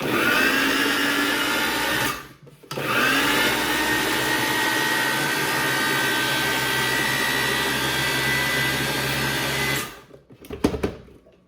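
Kitchen blender frappéing fresh strawberry ice cream, a loud steady motor whir that briefly cuts out and restarts, then stops near the end with a few clunks.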